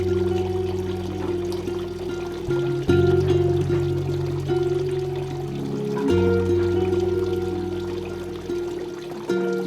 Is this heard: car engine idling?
no